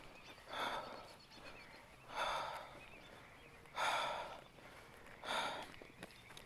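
Heavy, deliberate breaths taken to settle a gag reflex after crying, four slow audible inhale-exhale swells spaced about every second and a half, close to the microphone.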